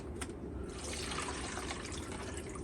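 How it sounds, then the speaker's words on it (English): Water rushing and gurgling steadily as it flows through an opened valve into an aquarium canister filter, a continuous full-bodied wash with no talking. "And then I open the valve and let the water flow in."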